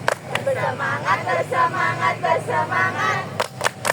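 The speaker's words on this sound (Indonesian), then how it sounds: "Tepuk janji fokus." A class of students chants a short rhythmic pledge together in unison, voices rising and falling in a steady beat, with a few sharp hand claps punctuating the start and the closing moments.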